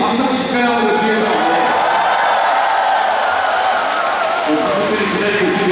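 A concert crowd at the Samsung Fire Healing Festa claps and cheers for a janggu player, a continuous loud wash of applause and shouts with voices rising over it.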